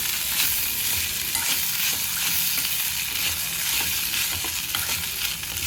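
Poha upma is tossed and stirred in a hot pan, giving a loud, continuous sizzle with repeated scraping strokes close up and no voices.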